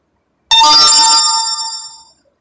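A single bright chime sounds as a mobile phone notification for an incoming message, starting abruptly, ringing out and fading over about a second and a half.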